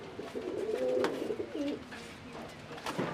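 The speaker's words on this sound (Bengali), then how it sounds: "এই হলো পায়রাটা, সুন্দর, হাতে দেখতে পাচ্ছ পুরো বিস্কুট কালার" A biscuit-coloured pigeon coos softly and close by, a low rolling, throaty call repeated a few times against a quiet background.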